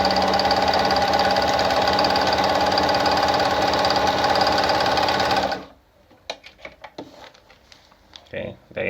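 A Pfaff model 9 sewing machine runs a zigzag stitch at a steady, loud, dense whir for about five and a half seconds, then stops abruptly, followed by faint clicks and handling noises.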